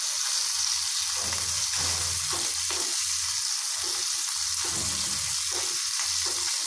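Small puti fish fry crisp in hot oil, producing a continuous loud, close sizzle with faint bubbling and occasional low stirring bumps.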